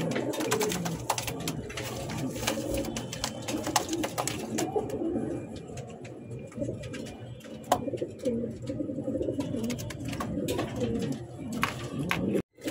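Colouring Golla pigeons, a breeding pair, coo in a steady low rolling series, close and fairly loud, with soft rustling and occasional clicks running underneath.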